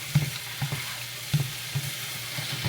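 Chicken feet sizzle and caramelize in a hot pan, a steady close frying hiss broken by soft rhythmic thumps of stirring about once every half second.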